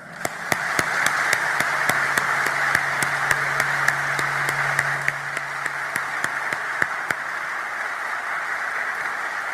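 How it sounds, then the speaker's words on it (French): An audience applauds at a speech event, a steady wash of clapping held for the whole stretch, with sharp single claps or taps ringing out at regular intervals above it and a low hum underneath. "Célébrons cette attraction mutuelle par un applaudissement qui jaillit du cœur."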